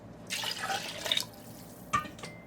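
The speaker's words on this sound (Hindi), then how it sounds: "अब इसके अंदर गर्म पानी शामिल करेंगे, थोड़ा और पानी शामिल करेंगे।" Hot water is added to a pot of jareesh, cracked wheat cooked with camel meat, giving a few faint drips and small splashes in short bursts with quiet gaps between them.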